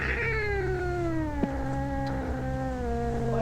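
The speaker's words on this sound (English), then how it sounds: "that cat is clearly making a distressed sound" A cat in a film lets out a drawn-out, distressed caterwauling meow whose pitch wavers and slowly falls, heard clearly over a low steady hum.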